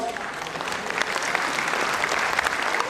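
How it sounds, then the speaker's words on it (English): An audience at a school annual day function breaks into steady, dense applause, loud and continuous for the whole few seconds, many hands clapping together in a hall. "Please give them a huge round of applause."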